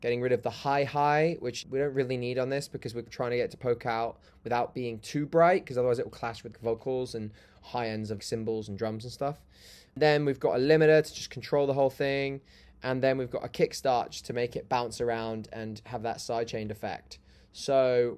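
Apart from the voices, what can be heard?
No everyday noise stands out behind the speech.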